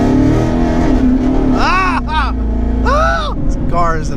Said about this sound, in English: And you hear the turbos spool up